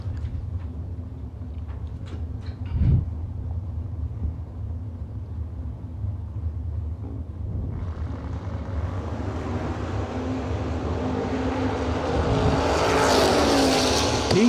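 A 1967 Camaro and an S10 bracket race at a drag strip during a fall event, a distant engine roar building into a loud, rising blast as the cars launch and pass.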